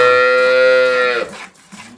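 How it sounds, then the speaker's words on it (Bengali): A frightened dairy cow gives one loud, close, drawn-out moo that breaks off after about a second, leaving quiet farmyard noise. "ভয় পাচ্ছে গরুটা"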